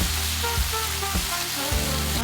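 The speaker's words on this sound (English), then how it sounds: "Begin to stir fry the mushrooms" Beech mushrooms stir-fried in oil in a pan give a steady, loud, close sizzle, with a few soft knocks from stirring and no talk.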